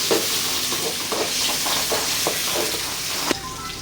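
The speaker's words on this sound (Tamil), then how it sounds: "சிறிதளவு எண்ணெயை ஊற்றிக்கொள்ளவும் வெங்காயத்தை போட வேண்டும்" Onions sauté in a little oil in a pan, hissing and sizzling continuously while a spoon stirs them in a run of quick scraping strokes, ending with a sharper knock.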